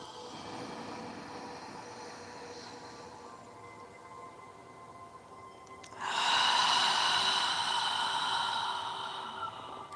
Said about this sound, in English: Feel the air moving as you exhale across the back of your throat.